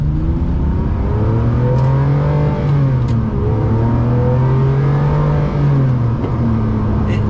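A Ferrari 456 GT engine revs and accelerates loudly, its pitch rising and falling through gear changes in a continuous up-close drone.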